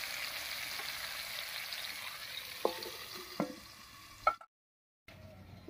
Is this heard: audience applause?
no